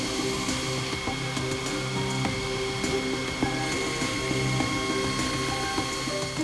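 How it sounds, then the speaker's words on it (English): Steel axe blade edges being ground on a power grinder, a steady dense mechanical whine and rasp running continuously throughout with small rhythmic variations. "Now we're going to finish grinding the edges."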